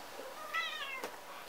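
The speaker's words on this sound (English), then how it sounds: "Cats." A single cat meow rises and falls briefly, fairly faint and close, within a quiet room with a couple of soft clicks after it.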